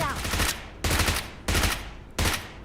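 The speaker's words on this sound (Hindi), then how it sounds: "आगे उस कमरे पे कोई है, मैं प्री फायर देता हूँ।" Gunfire in BGMI as a player pre-fires at a room ahead: four loud, evenly spaced bursts of rapid automatic fire, each cut off sharply before the next, with no voices.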